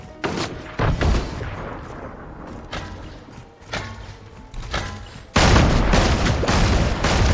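Bomb gun explosions in a Fortnite match, a series of thumping booms at irregular intervals, ending in a sustained loud roar of blasts.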